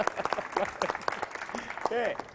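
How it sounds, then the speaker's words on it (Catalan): A theatre audience claps for a performing duo, the applause patterned and moderately loud, overlapping with speech and vocal sounds from the stage. "Un fort aplaudiment per a ells!"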